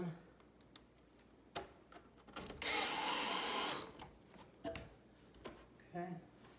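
Screws going into a three-shelf bench during assembly: a loud buzzing burst of about a second stands out amid scattered handling knocks and clicks, with a person talking nearby.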